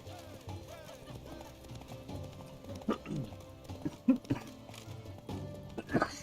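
Hoofbeats of the horse Roach in The Witcher 3: Blood and Wine, irregular clopping thuds over a low game ambience, with a few sharper hits near the end, moderately quiet.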